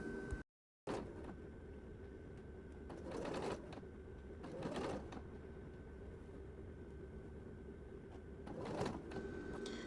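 A sewing machine stitches a quarter-inch French seam in fabric for boxer shorts, giving a faint, steady mechanical whir with several brief louder bursts of stitching.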